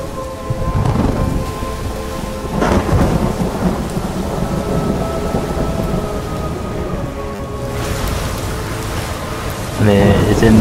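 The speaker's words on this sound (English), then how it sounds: "Better to land when it's raining." Rain and rolling thunder from a stormy scene in the video game Ori and the Will of the Wisps, a steady hiss of rainfall with thunder swelling and fading throughout, plus a brief musical flourish near the end.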